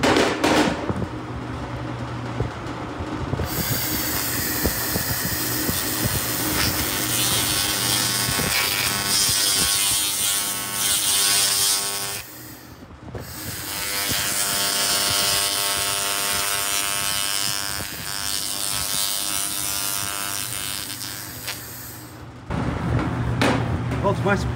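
A 2000 W continuous wave laser cleaner working over coated steel samples, giving a loud, harsh buzzing crackle that runs for long stretches, stops briefly, then resumes before cutting off.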